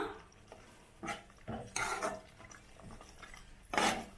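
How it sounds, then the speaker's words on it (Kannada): A spoon scraping and clinking in a pan as mushroom biryani masala with turmeric and kasuri methi gets mixed, several short separate strokes at moderate loudness with quiet gaps between them. "ಇದನ್ನೆಲ್ಲ ಹಾಕೊಂಡು ಚೆನ್ನಾಗಿ ಮಿಕ್ಸ್ ಮಾಡ್ಬೇಕು"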